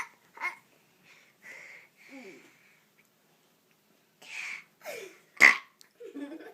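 A three-year-old child lets out loud burps, several short throaty bursts spaced through the stretch, with bits of adult talk and a child's babble between them.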